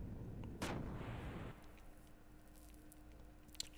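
A ship's gunner firing cannons in Xenogears: one loud blast with a sustained rushing burst for about a second, then fading into a quieter hum with faint small impacts.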